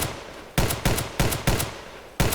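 Gunfire in a survival video game rings out as five sharp, loud shots in quick uneven succession, each a bright cracking burst with a short tail, with no voices over them.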